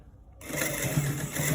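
A sewing machine stitching a shirt placket starts up after a brief quiet moment and runs as a steady, close mechanical whir with a rapid needle rhythm, with no talking.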